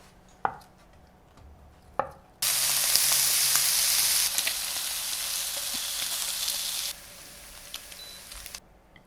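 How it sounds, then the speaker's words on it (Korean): Spam slices go into a frying pan: two sharp knife taps first, then a loud, bright sizzle starts abruptly, softens partway through and stops, followed by quiet clinks. "스팸은 적당한 크기로 잘라서 프라이팬에 앞뒤로 구워주세요."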